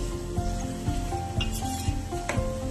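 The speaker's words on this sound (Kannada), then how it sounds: "ಎಣ್ಣೆ ಎಷ್ಟು ಚೆನ್ನಾಗಿ ಬಾಯ್ಲ್ ಬರ್ತಾ ಉಂಟು" Herbal hair oil boiling in a pan gives a steady, soft sizzle with faint scraping ticks and a low hum underneath, close by and with no talking.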